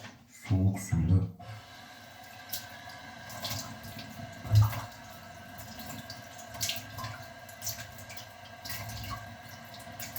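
Cold water from a sink tap splashing as a face is rinsed after a wet shave with an Omega Evo 2 brush, Pearl A141 razor and Omega shaving cream, with louder splashes early on and then a steady, softer trickle.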